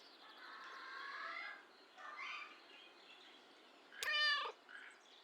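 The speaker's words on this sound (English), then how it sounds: "Skeptical meow." A cat in the video game Kentucky Route Zero gives soft, faint murmuring sounds, then one clear, sharper meow near the end against a quiet backdrop.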